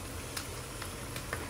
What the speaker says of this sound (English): got my mom frying some fish from Shaheng